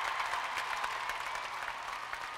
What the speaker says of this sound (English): we appreciate the round of applause